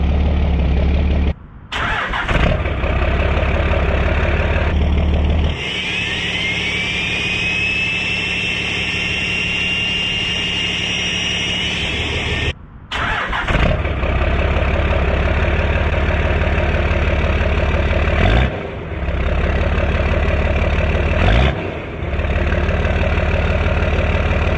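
A 12-valve diesel truck engine fitted with a new VGT turbo cranks and fires, then idles loudly with a rising turbo whistle, briefly cuts out and restarts, settling into a steady rumbling idle up close.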